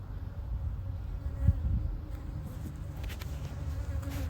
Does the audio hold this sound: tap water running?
no